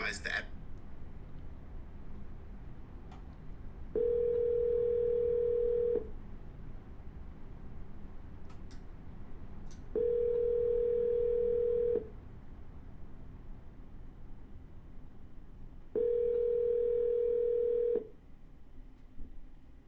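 Phone line ringing out while calling a seller, three steady ringback tones of about two seconds each, separated by roughly four-second gaps, clear over faint background hiss.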